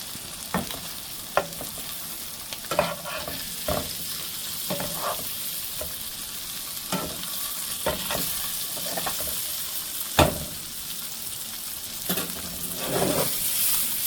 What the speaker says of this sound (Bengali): এটা আমি বাটারে একটু লাল লাল করে ভেজে নেব, ডিপ ফ্রাই হবে না